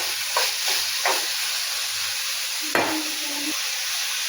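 Tomato being stirred and mashed into sizzling onions for paneer bhurji, a steady fry hiss broken by a few scraping spoon strokes and one sharper scrape near the end.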